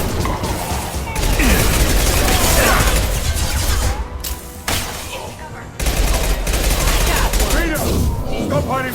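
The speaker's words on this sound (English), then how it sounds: "Firing an impact shot!" Gunfire in a Mass Effect 2 firefight as an impact shot is fired: loud, continuous bursts of shots and crashing impacts, a brief drop just after the middle, with shouted voices mixed into the battle.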